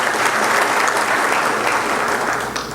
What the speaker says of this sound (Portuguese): Palmas para ele lá, ó.